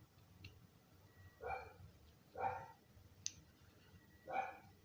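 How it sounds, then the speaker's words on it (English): A dog barks three times in spaced single woofs, fairly near but not loud, over a quiet background during work on an MTD chainsaw carburetor diaphragm, with a faint click in between. "The dog is barking."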